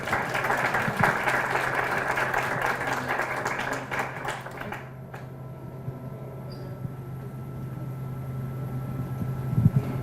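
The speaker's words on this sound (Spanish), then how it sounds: "Recibámosla, por favor, con un fuerte aplauso." Panel audience claps for about five seconds, a dense patter that then stops abruptly, leaving a quiet room with low hum.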